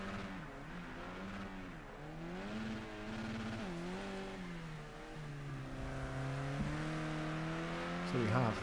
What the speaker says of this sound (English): Really getting some serious slide in what is a front wheel drive car,